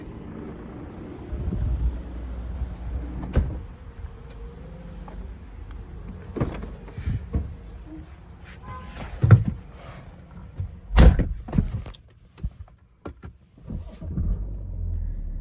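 An electric power tailgate on a diesel car with automatic transmission opens with a low motorized hum, broken by several sharp clunks and latch thuds, close and moderately loud.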